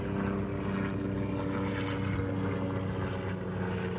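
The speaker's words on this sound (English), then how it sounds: "an airplane and a helicopter going overhead." An airplane and a helicopter pass overhead near the water, a steady low droning rumble with a throbbing rotor-like pulse that holds evenly throughout, with no talk.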